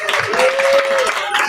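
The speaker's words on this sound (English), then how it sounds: "a round of applause for the candidates" An audience at a debate applauds the candidates with a short burst of steady clapping, a voice heard over it.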